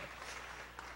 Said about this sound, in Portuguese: Vamos aplaudir aqui